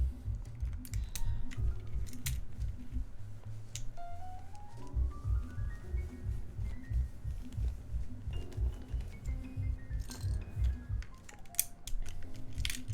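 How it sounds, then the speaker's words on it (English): Keycaps being pulled off a mechanical keyboard, a Geonworks F1-8X build, giving repeated close clicks and taps over a steady low background hum. "let's take these caps off then"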